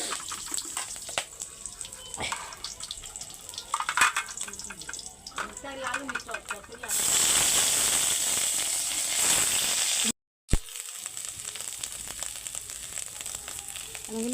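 Dried and fresh green chilies fry in mustard oil in a village kitchen, a steady close crackle and spatter that swells into a loud rushing sizzle midway, briefly cut off, then resumes.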